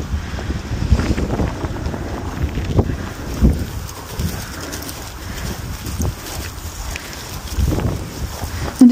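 Steady wind buffets the microphone outdoors, a continuous low rumbling gust with occasional louder thumps and no clear talking.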